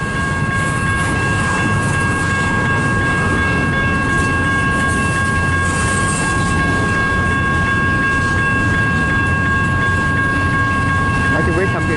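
A CN 533 northbound local freight train rolls slowly past in Richmond, Michigan, with a loud, steady rumble, wheel clatter and a high sustained squeal. The noise is close and continuous, and a voice is heard briefly.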